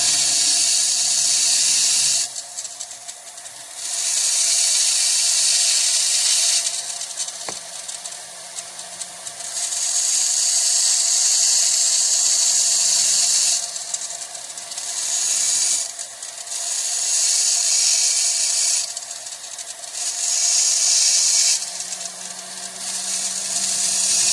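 A rotary tool grinds into fire agate stone in long, loud, steady bursts of high whining hiss with short pauses between passes, and faint water-like trickle and low hum underneath.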